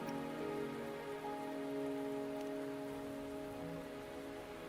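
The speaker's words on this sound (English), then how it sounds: "Are you trapped here by the rain?" Steady rain falls in a video game, an even, soft hiss of drops on surfaces throughout, fairly faint, with a low music-like drone underneath and no talking.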